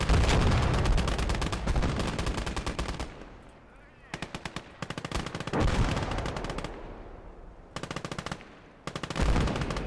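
Machine-gun fire in the video game Call to Arms: Gates of Hell, loud rapid bursts with brief pauses between them and heavy booming shots underneath, with someone speaking at times over the battle.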